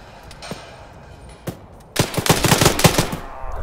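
Gunfire in the video game Arma 3: a few isolated shots, then a rapid loud burst of automatic fire lasting about a second and a half, close and sharp.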